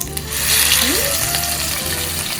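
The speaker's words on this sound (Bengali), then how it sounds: "চলুন এবার মাছটাকে ভেজে নেওয়া যাক। সর্ষের তেল আর একটু দিয়ে দাও" Hilsa fish pieces frying in mustard oil for biryani, a loud continuous hiss and sizzle close up, steady throughout with a brief scraping stir in the middle.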